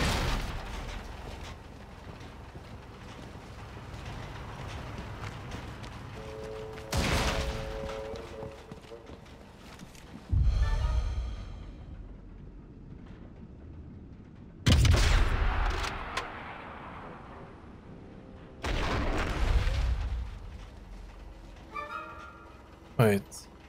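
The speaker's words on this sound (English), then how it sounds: "our gunshot was heard all the way over there" Gunfire in the video game Sniper Elite 5: several heavy, booming shots spread several seconds apart, each ringing out with a long reverberant tail while someone talks quietly between them.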